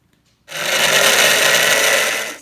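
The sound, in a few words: blender running to agitate E. coli cells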